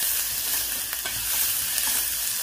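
Onion and chillies frying in a pan for a cucumber curry, a loud continuous sizzle with light stirring scrapes throughout, no voices.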